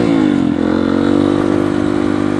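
A dirt bike engine drones steadily at close range during a sandy trail ride. The motor holds a loud, even mid-pitched growl with a slight wobble in revs throughout.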